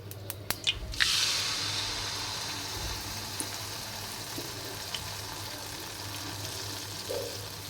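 Banana poa pitha frying in hot oil, giving a steady, soft sizzle that follows a few sharp clicks and a loud spitting hiss as batter goes into the pan, then continues evenly with occasional pops.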